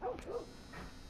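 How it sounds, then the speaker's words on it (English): Two or three quick dog barks in The Last of Us game, faint and somewhat distant, followed by a softer yip in a quiet background. "I hear a dog out here, though."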